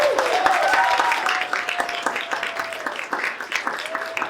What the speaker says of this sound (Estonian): teeme aplausi neile